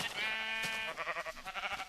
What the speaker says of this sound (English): I am punching a sheep.